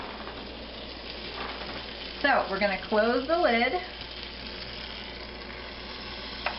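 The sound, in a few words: CiniWaffleCakes dough sizzling in a hot waffle maker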